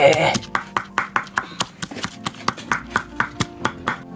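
Rapid hand-chopping of vegetables with a knife on a board in a village kitchen, about twenty crisp, evenly spaced chops close by, with faint talk in the background.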